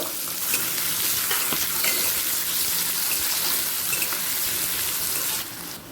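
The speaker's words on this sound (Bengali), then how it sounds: "এই সময় দিয়ে দিচ্ছি কুচিয়ে রাখা পেঁয়াজ পেঁয়াজটা হালকা লাল হওয়া পর্যন্ত অপেক্ষা করব" Chopped onion sizzles steadily in a pan with spices, a loud continuous frying hiss lasting throughout and dropping slightly at the very end.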